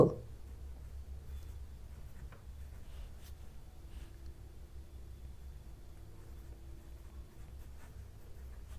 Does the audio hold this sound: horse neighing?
no